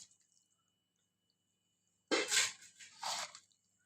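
Raw mutton tipped into a yogurt-spice marinade for handi mutton, making two short, wet squelching slaps in quick succession, close and fairly soft, with near silence before and after.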